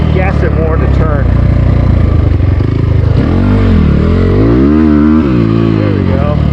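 SSR 300 pit bike with its small engine revving in sharp rising and falling bursts, loud and close, while a person talks over it.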